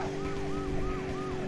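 Wailing police siren in the Driver 2 video game, rising and falling in steady repeated sweeps over a constant droning engine hum, loud and continuous without any talk.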